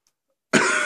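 One sudden, loud, chesty cough bursts out of near silence and holds its rough, phlegmy rasp to the end.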